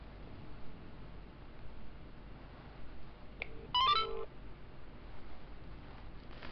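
Touch-tone dialing beeps from a Samsung Galaxy S2 Skyrocket phone placing a call, a short cluster of electronic tones rising briefly over a steady hiss, with no voices.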